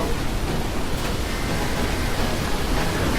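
Tornado wind from a Roblox storm-chasing game, a steady loud broadband roar like rushing air or surf that holds without pause throughout, with no talking.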